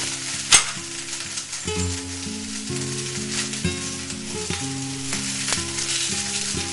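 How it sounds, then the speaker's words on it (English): Jumbo shrimp sizzle in a hot pan as they are stirred around for salt and pepper shrimp, a steady close frying hiss with a sharp clack near the start and scraping, clinking stir strokes throughout, no talking. "keep stirring them around, and then we're going to add the salt and pepper mixture."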